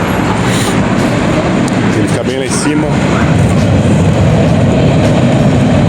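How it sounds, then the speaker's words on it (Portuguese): An S-Bahn commuter train passes through a German neighbourhood with a loud, continuous rumble and clatter, while a person briefly speaks over it. "o trem, a famosa S-Bahn"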